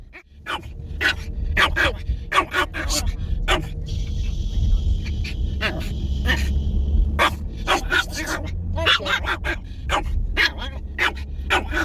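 A small Pomeranian dog barks repeatedly in quick, high-pitched yaps, close and insistent, with a brief pause in the middle and a low hum underneath.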